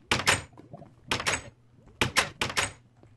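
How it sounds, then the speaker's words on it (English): A door opening in Minecraft, a series of short, sharp wooden clacks and thuds that come in quick pairs and bursts, loud and close with no talking. "I think the door should open."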